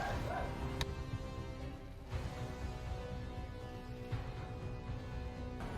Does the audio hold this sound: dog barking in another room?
yes